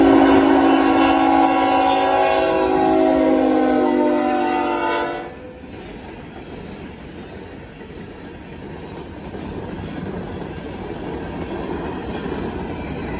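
A CREX passenger train sounds a loud sustained horn chord for about five seconds, cut off abruptly, followed by the steady rumble and rolling clatter of cars passing close by.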